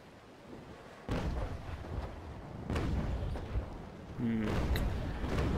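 Three heavy cannon shots boom from ships in a yacht battle video game, spaced a second or more apart, each a deep thudding blast with a rumbling tail, loud against quieter background game sound.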